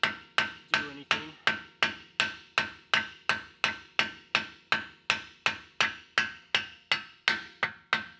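A 2.5-pound sledgehammer strikes a Porsche Cayenne axle about twenty times in a steady, even rhythm. Each blow is a loud, sharp metallic bang with a short ring, and there is no talking.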